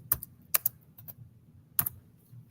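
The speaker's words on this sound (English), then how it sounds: "I'm typing in the wrong thing" A computer keyboard is tapped in short, irregular bursts: crisp close clicks in pairs and triplets separated by pauses, over a faint low hum, with no speech.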